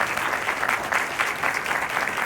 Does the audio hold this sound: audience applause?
yes